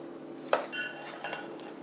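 Rava dosa premix being stirred and mixed in a container, with a sharp clink of a utensil against the vessel and a few softer scraping, clattering strokes, fairly quiet and without talk.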